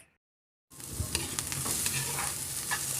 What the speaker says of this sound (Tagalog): Gisa din po natin yung ating balaw.